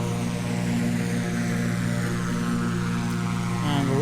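A propeller aircraft engine drones loudly and steadily as the plane rolls down the runway in the Prepar3D flight simulator, with a constant pulsing hum and a slight pitch change near the end.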